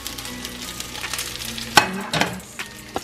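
Egg, meat and onion fry together in a hot pan for fried rice, with a steady crackling sizzle, a sudden loud burst as ingredients hit the oil, and a few scraping stirs, close up with no speech.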